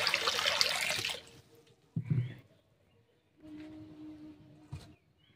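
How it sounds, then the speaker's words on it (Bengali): Water poured into a cooking pan, a brief splashing gush at the start that fades, followed by quieter knocks and a low hum. "কড়াটা বসিয়ে দিলাম, পরিমাণ মতো জল দিয়ে দিচ্ছি।"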